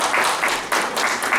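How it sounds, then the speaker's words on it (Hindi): Enthusiastic clapping from an audience at a doctors' meeting in a banquet hall, a short, loud, dense burst with rhythmic surges. "अगर बात सही और सच्ची लगी तो जोरदार तालियां चाहिए।"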